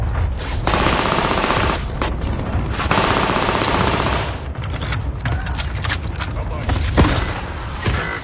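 Gunfire in the Warzone video game, dense bursts of automatic fire and crackling shots filling the whole stretch, loud and continuous with a sharper crack near the end, while players talk over it.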